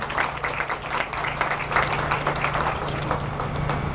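A large audience at a ceremony applauds the Virginia Union University Concert Choir, a steady wash of dense clapping that holds at an even level for the whole stretch, with a faint low hum running underneath.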